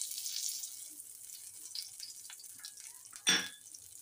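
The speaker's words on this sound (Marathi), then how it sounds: "मी तेल गरम करायला ठेवलेले, गरम झाले. तर पहिला आपण कढीपत्ता टाकूया." Curry leaves dropped into hot oil for a tempering of brinjal bhaji give a soft continuous hiss of frying, then a sudden sharp crackling burst near the end, with no voices.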